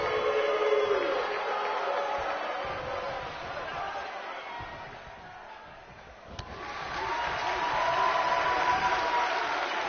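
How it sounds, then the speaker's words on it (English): Wrestling arena crowd at a Ring of Honor match roars and cheers steadily, dipping briefly midway before swelling again, with a sharp slam sound in the middle. "by the sound of this crowd, I think they're getting what they wanted."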